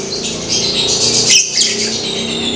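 Male lovebird chirping in steady, dense high-pitched bursts, close and loud, with no talk over it.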